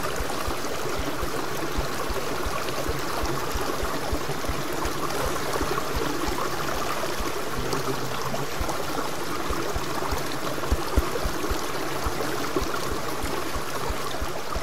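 Waterfall and flowing stream in the video game Reign Of Kings, a steady rushing, bubbling wash of water that stays even and moderately loud throughout, with no talk.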